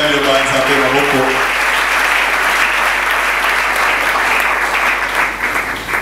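Church congregation applauding together during a service: dense, sustained clapping from many hands, loud and close, filling the space steadily before thinning slightly at the end.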